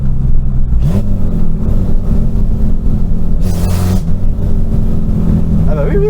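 A Volkswagen Golf engine roars under hard acceleration, loud and close inside the car, with a rising pitch that shifts as the car changes gear.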